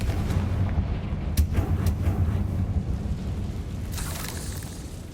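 The Confringo blasting spell explodes in Hogwarts Legacy, giving a dense, rumbling roar of booms and crackling bursts that stays loud throughout.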